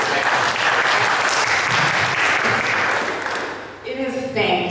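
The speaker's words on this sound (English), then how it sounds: "So let's give yourselves a round of applause because you're fantastic." Loud, dense audience applause fills a campaign event room for several seconds, then fades as a voice begins speaking near the end.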